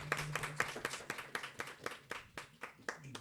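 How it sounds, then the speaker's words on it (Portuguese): Audience at an architecture talk event clapping, a small group of distinct hand claps in a quick irregular rhythm, fairly quiet and close. "Uma salva de palmas também."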